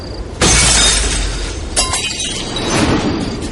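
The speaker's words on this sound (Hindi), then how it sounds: "गाड़ी के पीछे का शीशा फोड़ते हुए उन्हीं की एक बोतल आई" A glass bottle smashes through a car's rear windshield with a sudden loud shattering crash, followed by a second burst of breaking glass and scattering tinkling shards.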